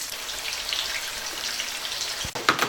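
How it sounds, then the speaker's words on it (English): Beef burger patties fry in a pan with a continuous crackling sizzle, close and steady, broken near the end by a brief knock and a flare of louder spattering. "Okay, the patties are fried over here."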